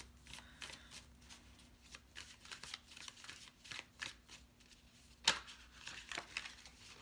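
Tarot cards shuffled and drawn by hand, soft quiet riffling and papery slides with a few sharper snaps, close up and unaccompanied by speech.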